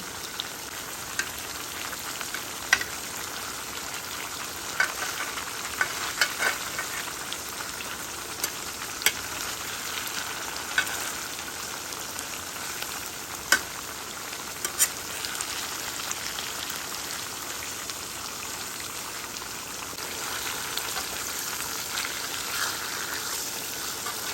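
Hilsa fish frying in hot oil for a mustard hilsa dish, a continuous dense sizzle with frequent small pops and spatters, steady and close, with no talking over it.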